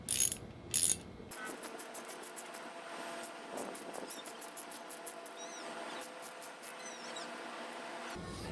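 A hand ratchet turns a thread chaser down a lubricated engine bolt hole, giving a quick run of fine, evenly spaced clicks that carry on steadily at close range, with no talking.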